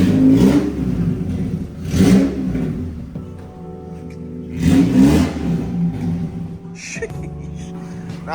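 A car engine breathing through an Lmtless Manila chambered muffler on a full exhaust, revved hard three times with throaty surges that settle back to a rumbling idle between, loud and close.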